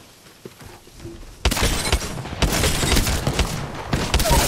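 Shotgun fire in the video game Apex Legends, with loud, dense bursts of gunfire and impacts starting after a quiet opening and continuing steadily to the end.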